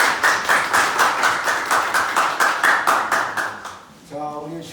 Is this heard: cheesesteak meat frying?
no